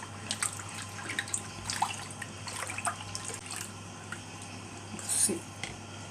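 Salt is stirred into a litre and a half of water to dissolve it, giving soft swishing and faint dripping, liquid sounds with occasional light clinks and a low murmur in the background.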